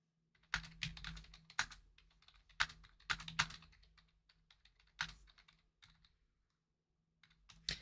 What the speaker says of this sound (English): I'm so used to typing on the keyboard at work and all the buttons are like together.